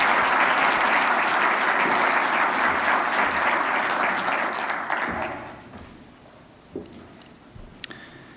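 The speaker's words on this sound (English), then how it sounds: "Please give Jennifer a big round of applause." A keynote audience gives a full round of applause, loud and dense for about five seconds before fading to a few scattered claps and room noise.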